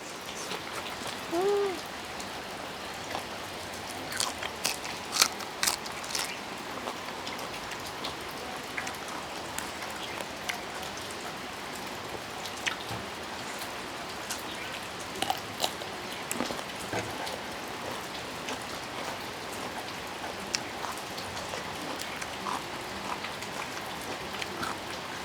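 Steady rain falls outdoors, a dense even hiss with scattered sharp drip taps on hard surfaces throughout, no voices over it.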